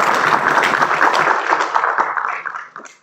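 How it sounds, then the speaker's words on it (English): Brief applause at a school board meeting honoring student swimmers headed to the state championships, a short, loud burst of clapping in a room that tapers off within three seconds. "Round of applause for them."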